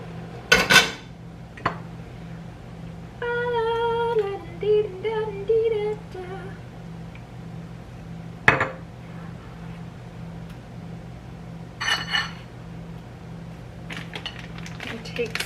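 A utensil scrapes and clinks against a dish while vegan ingredients are stirred together, with close, irregular clatter throughout and a brief humming tone partway through.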